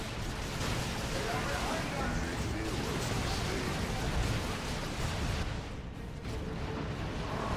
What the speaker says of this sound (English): These grenades are falling short.